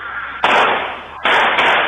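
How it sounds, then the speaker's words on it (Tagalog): Gunfire from a shooting at a tricycle parked at a gas station: two loud, sustained bursts of successive shots, separated by a short lull, with no voices over them. "Rinig pa ang magkakasunod na putok ng baril."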